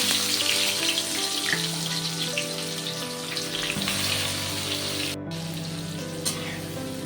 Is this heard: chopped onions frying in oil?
yes